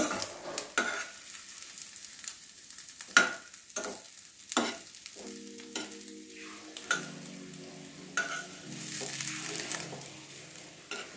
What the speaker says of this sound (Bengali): ওই দিকটা একটুখানি ভেজে নিচ্ছি।